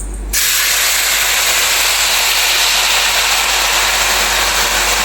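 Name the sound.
jaggery syrup poured into hot pan, sizzling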